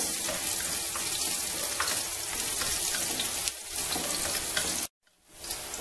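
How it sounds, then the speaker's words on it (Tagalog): Garlic fries in a pan for spicy saucy pancit canton, a loud, continuous crackling sizzle that runs steadily before cutting out briefly near the end and slowly returning, with no voices. "Hintayin lang po natin maluto ang garlic."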